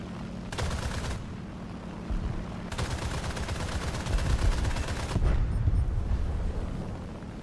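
Gunfire rattles in dense, loud bursts against a steady engine drone in the War Thunder air arcade battle, with several long volleys of rapid fire and no talking.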